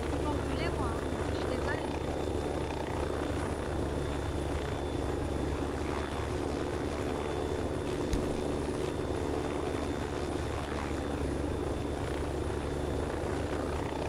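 A helicopter in Arma III Altis Life, set in Agorapolis, thrums steadily with rotor and engine noise through the whole stretch while people talk over it in French.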